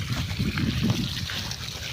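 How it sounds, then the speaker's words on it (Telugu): Water running into a farm field, a steady close trickling and gurgling flow with a continuous low rush over the short stretch, no talk. "ఇక్కడ చూడండి ఎట్లొస్తుంది వస్తుందో వాటర్"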